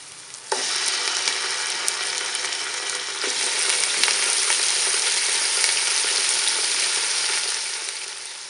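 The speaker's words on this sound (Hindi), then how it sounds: "चिकन को इसमें भून लेना है जब तक चिकन का कलर चेंज नहीं हो जाता" Chicken meat frying in a pan with onion for a hot and sour chicken vegetable soup, a loud steady sizzle that bursts in after a brief quiet start and runs unbroken with occasional stirring clicks, close and alone.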